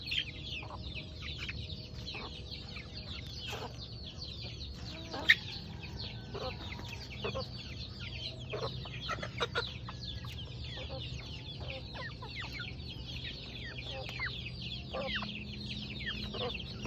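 Backyard chickens and chicks cluck and peep constantly at close range, short busy calls overlapping with a few louder squawks over a quiet outdoor background.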